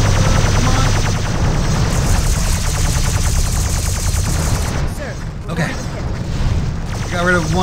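Rapid, rhythmic bursts of starship cannon fire in a Star Trek Bridge Commander battle, loud and continuous, with a voice talking over the barrage.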